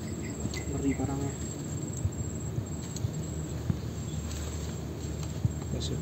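Stingless honey bee colony (Tetragonula laeviceps) being split from a bamboo nest into a box, giving a steady low buzzing hum with small clicks and taps nearby, under faint talk.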